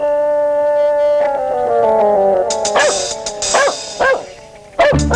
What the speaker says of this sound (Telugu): కుక్క ఎందుకు అరుస్తుంది చూడండి రా.